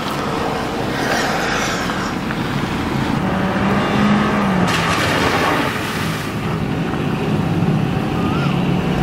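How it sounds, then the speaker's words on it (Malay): A white road car on General Tyre tires is pushed hard, its engine roaring steadily and loudly up close with broadband road and tire noise throughout, no talk over it. "So sekarang kita nak test kereta yang warna putih ni, General Tyre."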